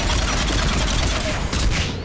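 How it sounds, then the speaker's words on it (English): Anti-aircraft guns firing in the Mass Effect 3 Rannoch mission, a dense continuous rattle of rapid gunfire and booms filling the whole stretch at steady loudness, with no pause between bursts. "Aircraft guns are up ahead."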